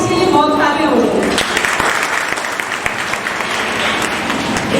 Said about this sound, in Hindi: तो पहले तो इसके लिए बहुत तालियां हो जाए।